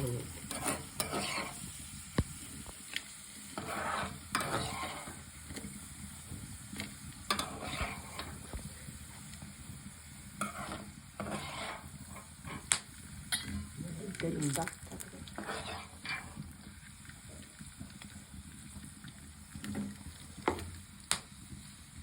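Something frying in oil in a pan while being stirred until brown, with continuous sizzling and repeated scraping, clinking stir strokes up close, steady and moderately quiet throughout.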